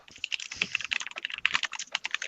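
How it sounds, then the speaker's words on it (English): Rapid, uneven keystrokes clatter on a computer keyboard, close and steady, during a Call of Duty Modern Warfare 2 session, with no talk over them. "what are we all typing now?"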